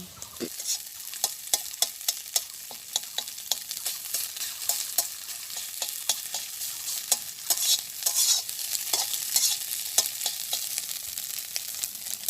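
Egg being scrambled into fine crumbles and fried in a pan in a village kitchen, a bright steady sizzle punctuated by frequent sharp scrapes and clicks of the stirring spoon, close up with no speech.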